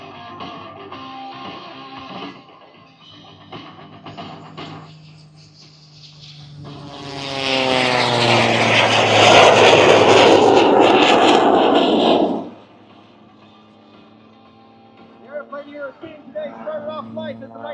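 A 1929 CTO Saferwing Waco biplane with a Wright R760 245-horsepower radial engine flies at the EAA AirVenture Oshkosh air show. Its engine roar swells loud for several seconds, then drops away, with people's voices murmuring before and after.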